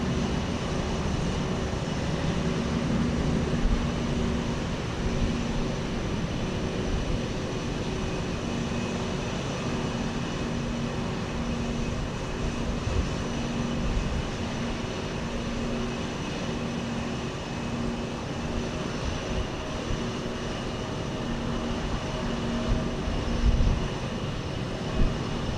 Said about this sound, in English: United 1014, Max 9 is headed to Cancun